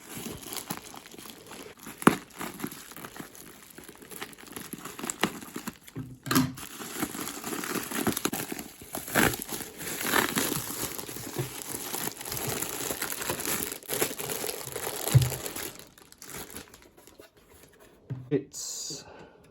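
Crinkly bubble wrap rustling and crackling, close and continuous, with occasional sharper snips and pops as packaging around a vintage audio deck is pulled apart.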